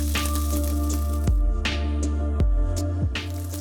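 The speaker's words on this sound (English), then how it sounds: "You have to hear that sizzle." Filet mignon steak sizzles loudly in a hot pan, a continuous crackle broken by several sharp spits and pops, with no talking.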